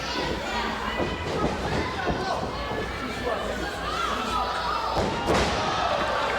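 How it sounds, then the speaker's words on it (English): A wrestler slammed onto the ring mat by a sunset flip powerbomb during a professional wrestling match, heard as dull thuds amid steady crowd noise and cheering, with talk over it. "The sunset flip powerbomb combination."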